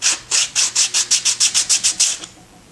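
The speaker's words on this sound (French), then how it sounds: "ça va me permettre de poncer directement ma moulure en conservant sa forme" A homemade sanding block rubs abrasive back and forth along a wooden moulding in about twelve even, rasping strokes at a quick steady rhythm, close and fairly loud, with no talk.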